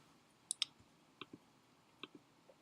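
Faint, crisp computer mouse clicks come in small pairs and singles, a quick double click followed by a few spaced clicks in a quiet room.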